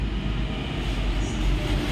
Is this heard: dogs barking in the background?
no